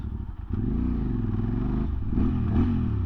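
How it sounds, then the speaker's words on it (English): A QJ Motor motorcycle exhaust rumbles steadily up close, its deep throaty note rising and dipping slightly as the bike rides along, with no voices. "Got a nice grunt to that exhaust"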